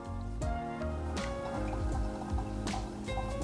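Hot water poured into the centre of a Steadfast Brewer coffee brewer, a soft close trickle and splash with small drips over steady low background noise, no talking.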